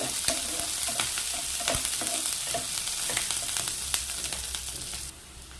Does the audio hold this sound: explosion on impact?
no